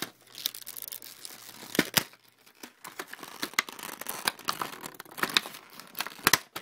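Thin plastic packaging from an S.H.Figuarts Kamen Rider figure being handled, crisp irregular crinkles and sharp crackles close to the ear, quiet between bursts, no talk.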